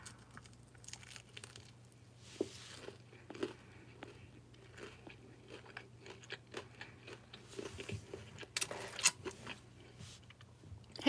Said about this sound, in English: you're hearing the crunch from the shrimp.